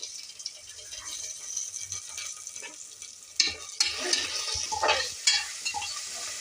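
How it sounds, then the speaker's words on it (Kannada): Ginger garlic paste fries in a pan while being stirred, with a soft steady sizzle broken by several sharp scraping clinks of a spoon against the metal. "ಅದು ಹಸಿ ವಾಸನೆ ಬಿಡೋವರೆಗೂ ಮಿಕ್ಸ್ ಮಾಡ್ಕೊಬೇಕು."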